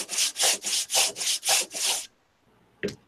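Rhythmic back-and-forth strokes of PSA sandpaper, around 120 grit, rubbing across wood in a veneering shop, six or seven even passes close up, then a pause and one short final scrape.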